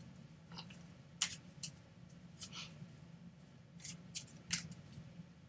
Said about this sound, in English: So tell me when to stop shuffling.